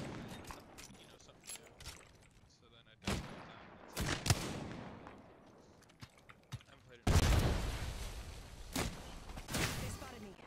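Gunfire in the battle royale shooter Apex Legends: scattered sharp shots and short bursts, growing into heavier, louder volleys later, with a player talking between the shots.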